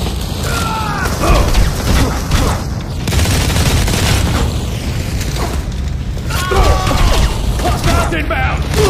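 Heavy gunfire in the mobile shooter Modern Combat 4: Zero Hour, a dense, loud barrage of shots and booms running throughout with mechanical clatter, a battlefield din that never lets up.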